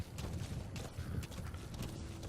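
Horse hooves clip-clop in the Metal Gear Solid V video game, a steady fast rhythmic clatter of hoofbeats on the ground at low volume with faint rustling.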